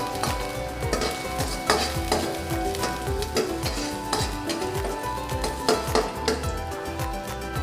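Garlic sautéing in a pan for Filipino chicken adobo, a steady close sizzle broken by repeated rhythmic scrapes and clinks of a spatula stirring against the pan.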